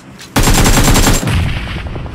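Automatic gunfire in the mobile game BGMI starts abruptly as a loud, rapid burst of shots that runs on for nearly two seconds.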